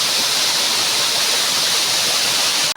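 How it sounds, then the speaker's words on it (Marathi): Water plunging from a cliff in a steady, loud, broadband roar that fills the whole stretch without a break, cutting off abruptly at the very end. "आवाज बघा पाण्याचा कसा यायला लागला आहे"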